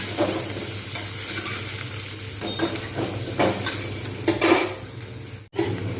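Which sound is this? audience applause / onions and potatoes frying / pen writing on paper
onions and potatoes frying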